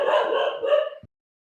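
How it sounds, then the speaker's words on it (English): A pet dog barks in a short burst of several overlapping yelps and woofs at close range, fairly loud, then cuts off into silence after about a second. "sorry, my dog is going crazy."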